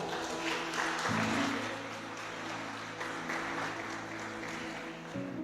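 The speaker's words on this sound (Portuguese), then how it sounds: "Aplauda Jesus, aplauda Jesus." A church congregation in Blumenau, Santa Catarina, applauds Jesus, with moderate clapping over sustained keyboard or organ chords that shift pitch, the music prominent beneath the applause.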